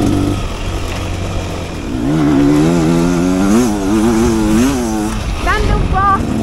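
A 2024 Beta Xtrainer motorcycle engine revs loud and close, its pitch rising and wavering as the throttle is worked, then dropping with a couple of quick blips near the end.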